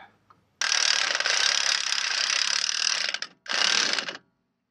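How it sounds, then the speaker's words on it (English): Cordless impact wrench tightening the front shock absorber bolts on a car, one long loud burst of rattling hammering, then a short pause and a second shorter burst, close up with no talking. "And take my impact wrench and do the rest."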